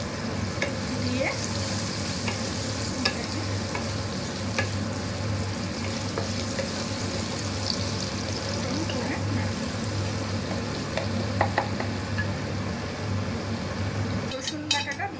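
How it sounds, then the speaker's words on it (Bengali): Onion sizzling and frying in a pan for a one-pot chicken pulao, a steady crackling hiss with scattered spoon scrapes and clinks against the pot, continuous and close, with a voice faintly present beneath. "পেঁয়াজটা ভাজা ভাজা হয়ে গেছে"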